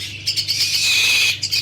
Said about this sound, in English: Their aviary is populated by vultures and eagles, ferocious yet majestic.